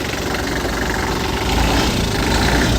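A Kubota GL300 diesel generator engine runs at a steady, loud idle, with a constant droning rumble and vibration close by and no voices.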